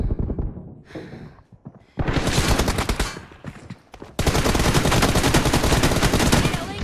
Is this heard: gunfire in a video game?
yes